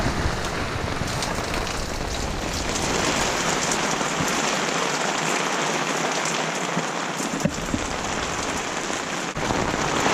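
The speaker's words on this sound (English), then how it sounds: "It's absolutely hosing down" Heavy rain hammers steadily on a Feldon Shelter Crow's Nest rooftop tent, a dense, constant patter close overhead with no voices.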